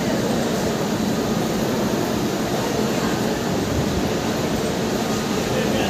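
A Sapthagiri Express train pulls into a railway platform, a broad continuous rumble and roar of rolling stock close by, steady throughout with no clear pauses.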